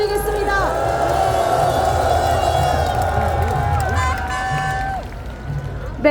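A large outdoor crowd cheers and applauds at a political street rally demanding a special counsel for Yoon Suk-yeol and Kim Keon-hee. The roar of cheers and clapping holds loud and steady for about six seconds, easing slightly at the end.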